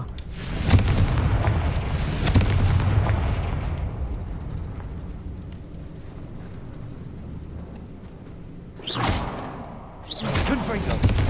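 The Confringo fire spell in Hogwarts Legacy goes off as a loud, deep explosive boom with rumbling debris that fades over several seconds, followed by two further sharp blasts near the end, with faint background game sound.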